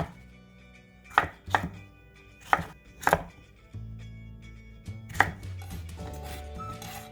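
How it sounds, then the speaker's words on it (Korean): A seeded cucumber is cut into thirds with a knife for water kimchi, giving about six sharp knife thuds on a cutting board in an uneven rhythm, close and clear, with quiet handling noise between the cuts. "이렇게 썰면은 너무 크니까 3등분으로 이렇게 잘라 주셔요."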